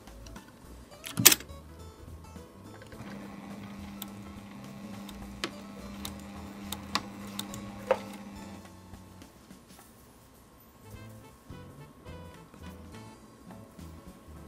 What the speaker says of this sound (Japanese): 返し縫いをします。